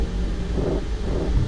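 The engines of a Norwegian Boeing 737 MAX 8 in a flight simulator spool up for takeoff, giving a brief, steady low rumble with a faint rising roar and no talking.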